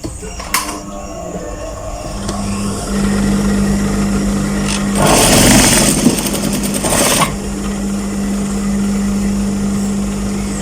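Sewing machine stitching along the side of a pocket on women's office trousers, a steady mechanical whir that starts after about two seconds and runs on close and fairly loud, with a louder burst of clatter in the middle.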